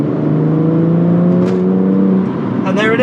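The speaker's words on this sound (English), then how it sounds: "I did back off a little bit because I felt the turbos kick in." A BMW M140i's turbocharged engine drones loudly from inside the car as it accelerates up a very steep hill, its tone holding steady then shifting as the turbo comes in.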